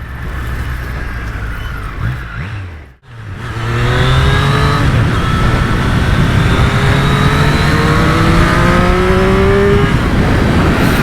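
A 2023 Triumph Street Triple 765 RS engine drops briefly, then revs back up strongly and climbs steadily in pitch, loud and close, with no talking.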